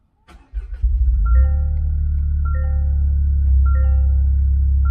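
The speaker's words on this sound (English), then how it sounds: "let's start the car and see if this thing starts with the light on the dash" Toyota GR Corolla engine starting from inside the cabin, a click and crank catching into a steady idle rumble, with repeated dashboard chimes sounding over it.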